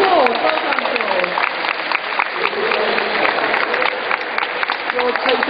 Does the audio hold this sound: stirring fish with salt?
no